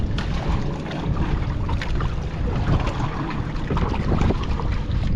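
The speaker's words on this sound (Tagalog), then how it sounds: "Malakas ang hangin" Strong wind gusting at sea beside a wooden boat, a steady rough roar buffeting the microphone with low rumble and water noise, continuous and fairly loud with no voices.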